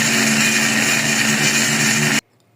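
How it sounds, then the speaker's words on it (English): A blender whirs loudly and steadily as it purees a chicken marinade of capsicum, garlic, spices and water, a constant motor drone that cuts off abruptly to near silence. "Add some water and blend."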